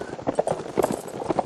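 Horses' hooves clopping in the video game Mount&Blade Warband, a steady rhythmic clip-clop of several horses moving at a walk, close and moderately loud, with faint voices mixed in.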